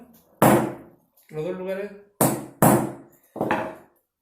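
A nail is struck to punch marking points into a metal sheet for Mapuche jewelry work, resting on a small wooden board. Four sharp, close metallic taps ring out, with someone speaking between them.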